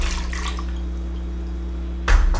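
Soaked guajillo chili peppers and their soaking water are poured into a blender, a close splashing pour that surges loudly near the end over a steady hum.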